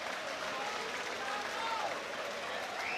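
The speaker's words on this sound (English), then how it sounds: "encouraging the crowd to applaud him" A boxing crowd at an IBF title fight applauds a fighter being led around the ring, a dense, steady wash of clapping and crowd noise with a commentator talking over it.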